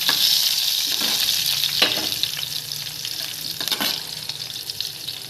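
Green chillies and star anise sizzle and crackle steadily in hot oil in a pan, with a few louder pops and stirring scrapes throughout.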